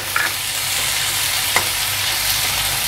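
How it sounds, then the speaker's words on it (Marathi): Onion fries in hot oil with cumin and mustard seeds, a loud and steady sizzle broken by a couple of faint pops or scrapes. No one speaks over it. "आपण आता या तेलामध्ये जिरे टाकू, थोडी मोहरी टाकू, यामध्ये कांदा टाकू। कांदा आपल्याला चांगला लालसर परतून घ्यायचा आहे।"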